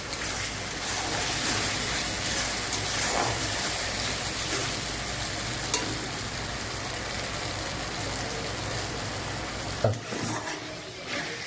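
Garlic, green chilli and ginger paste frying in oil, a steady broadband sizzle that holds evenly throughout, with a couple of brief utensil knocks near the end.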